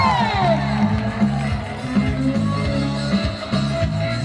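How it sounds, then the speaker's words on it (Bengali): A stage-show audience cheers and whoops for a young singer, the crowd noise riding over loud, steady thumping music with a pulsing bass beat. "ছোট্ট করে একটা হাততালি হোক আমাদের মিতুষীর জন্য"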